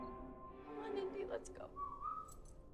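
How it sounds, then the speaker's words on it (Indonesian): Whistling from the horror film Good Boy, about a dog, plays faintly as a short wavering melodic whistle, with a sustained rising tone near the end over a low murky soundtrack. "Indy ragu sejenak karena seolah mendengar siulan Todd"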